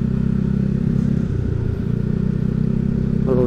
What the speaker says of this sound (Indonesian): Kalau untuk tarikan nih coba kita gas-gas tipis ya